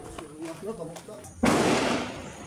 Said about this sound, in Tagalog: Umalingaw mga putok ng baril sa Tipo-Tipo,